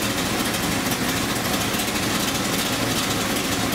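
A 426 Hemi V8 in a 1971 Dodge Charger R/T idles steadily with a loud, dense, continuous rumble close by, no voices.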